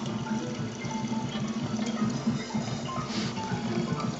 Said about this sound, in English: This water bottle takes a long time to fill up